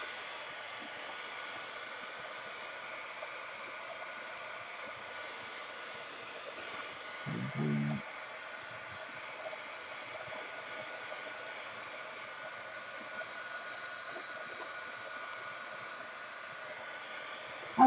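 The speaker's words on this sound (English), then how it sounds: "I'm just drying this with my heat tool" A heat tool blows steadily over freshly sprayed paint on a canvas, giving a constant airy hiss-whir close by that holds for the whole stretch, broken only by one brief knock.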